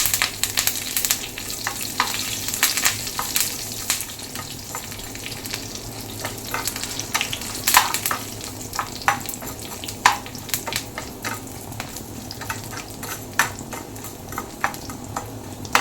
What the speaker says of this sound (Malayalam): രണ്ട് മൂന്ന് വറ്റൻമുളക് മുഴുവനായിട്ട് തന്നെ ഇട്ട് കൊടുക്കാം അതുപോലെ തന്നെ ഒരു ഇത്തിരി കറിവേപ്പിലയും ഇട്ട് കൊടുക്കാം